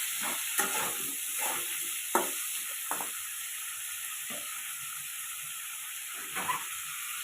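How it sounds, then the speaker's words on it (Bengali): Vegetables with salt and turmeric frying in a pan after a tempering of nigella and cumin seeds, a steady soft sizzle with scattered stirring scrapes and clicks, close and moderately quiet, no voices. "হলুদ দিয়ে ভেজে নেব।"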